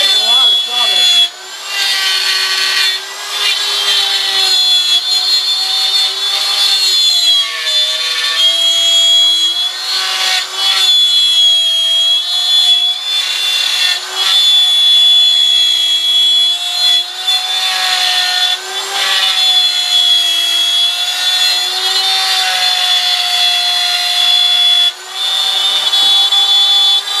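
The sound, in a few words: router cutting wood Christmas tree shapes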